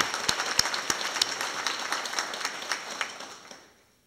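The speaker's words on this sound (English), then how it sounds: "I would like to give Sylvia and this board a round of applause for all of the hard work that they're doing." Audience applause rings out at a Morehead State University space science facility grand opening, a dense wash of clapping with a few sharp near claps, then fading to silence near the end.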